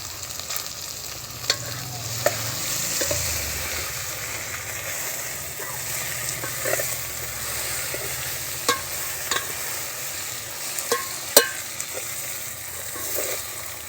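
Okra for a Gujarati bhindi curry fries in a pan, a steady broad sizzle running throughout with occasional sharp clicks and scrapes of a spoon stirring, close and fairly loud, no talking.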